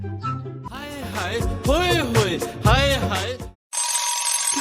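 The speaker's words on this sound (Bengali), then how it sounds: "অ্যালার্মটা কোথায় বাজছে বাবা?" A phone alarm rings in repeated bursts of bright, warbling melodic tones, loud and close, with a short silent gap near the end before a noisier tone follows.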